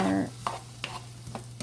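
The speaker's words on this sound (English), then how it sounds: "we're going to saute this up just until the onions are" Onions sauteing in a pan for veggie stuffed spaghetti squash, a quiet sizzle with a couple of soft spatula stirs, brief and close.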